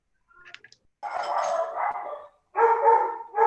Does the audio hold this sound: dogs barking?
yes